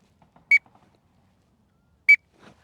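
Two sharp, high whistled peeps imitating a drake teal on a duck call whistle, about a second and a half apart, with faint breathy clicks between them and a soft murmur at the end.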